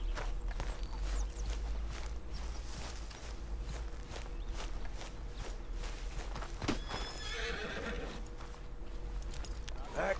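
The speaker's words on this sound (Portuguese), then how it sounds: "Deixa eu pegar ali meu pangaré." A horse in Red Dead Redemption 2 whinnies and snorts while hooves clip-clop at a walking pace close by. A low engine-like hum sits underneath, and a brief rustle or zipper-like sound cuts through near the end.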